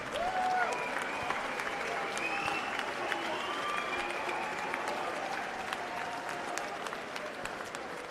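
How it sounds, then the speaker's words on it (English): Boxing crowd at a championship bout applauding the two fighters in the ring, a steady wash of clapping and cheering that holds loud throughout, with whistles and raised voices rising above it. "May we please have a round of applause for these two fighters."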